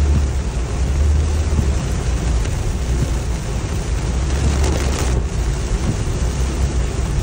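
Heavy rain roars in a constant, dense hiss, loud and close, with a low rumble underneath and no pauses.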